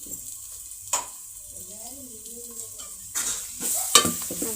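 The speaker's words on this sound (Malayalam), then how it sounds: "ഇത് നമുക്ക് നന്നായിട്ട് അരപ്പ് മൂപ്പിക്കാം" Crushed ginger-garlic paste for chicken curry frying in a pan, heard as a soft sizzle with sharp stirring clinks and scrapes, plus a brief spoken or hummed voice in the middle and a louder burst of frying and stirring near the end.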